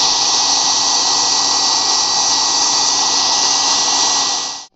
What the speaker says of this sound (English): I'm just going to put a hair dryer and blow it all right here to get hot, and right here to soften it up